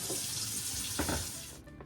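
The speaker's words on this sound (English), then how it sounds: "Wash the pot here." A pot is washed under a running kitchen tap before cooking Jamaican cornmeal porridge, a steady broadband rush of water with brief splashy changes as the pot moves under the stream, then the flow stops near the end.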